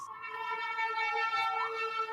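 A steady siren tone wails continuously at a fairly loud level for about two seconds, heard alone with no one talking over it.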